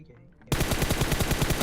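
Rapid automatic gunfire from a PUBG match bursts in loudly after a half-second of near silence, a fast steady stream of repeated shots continuing to the end.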